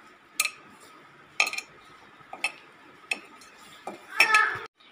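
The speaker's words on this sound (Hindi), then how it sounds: "अब इसी में हम डालेंगे 2 चम्मच कॉर्नफ्लावर और इसको अच्छे से मिक्स कर लेंगे।" A spoon clinks against a bowl while cornflour is mixed into a potato samosa filling, giving five sharp metallic taps spaced about a second apart, close and fairly loud, followed by a short scraping rattle.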